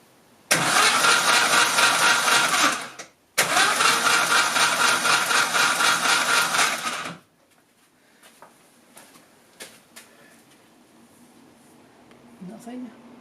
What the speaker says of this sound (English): let's try and turn the engine over without compression